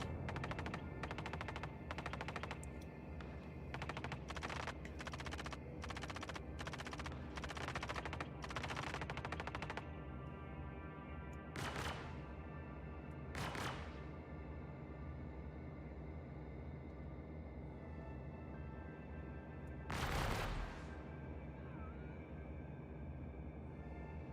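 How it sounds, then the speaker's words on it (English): Rapid automatic gunfire in the Star Citizen video game rattles in long bursts for the first ten seconds, followed by a few isolated sharp shots over a constant low mechanical hum. "now they're shooting at somebody."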